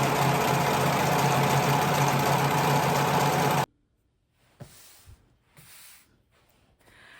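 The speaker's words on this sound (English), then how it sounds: "now that I've serged all my pieces" A serger overlocks fabric pieces for workwear shorts in a continuous fast mechanical whir for several seconds, then cuts off abruptly, leaving faint handling rustles and soft taps of fabric being moved.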